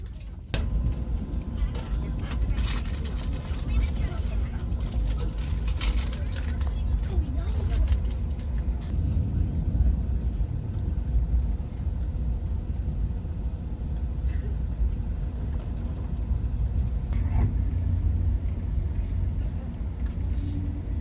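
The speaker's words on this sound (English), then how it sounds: "You can really tell that this is the fastest train in the Americas." Steady low rumble inside an Amtrak Acela high-speed train running at speed, a continuous dense roar with faint rattles throughout.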